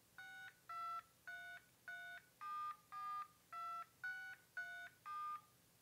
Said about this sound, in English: So, I'm going to dial in my number real quick.